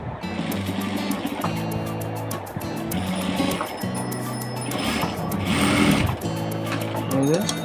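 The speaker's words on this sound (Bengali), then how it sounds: "আবার সেটি আমরা সেলাই দিব।" A sewing machine stitches a double pintuck design in fabric, its rapid needle chatter running in steady bursts with brief pauses, close up, while a voice talks over it.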